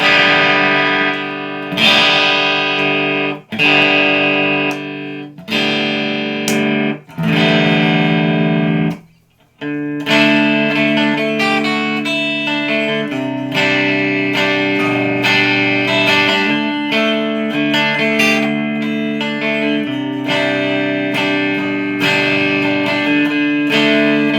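A Kiesel Type X headless electric guitar strummed in chords with a bright, clean tone, several ringing strums with short pauses, then a steadier stretch of continuous playing.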